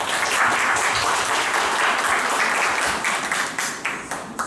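A seminar audience in Sejong gives a burst of enthusiastic applause to open the summer event, dense clapping that peaks early and then thins into scattered claps toward the end.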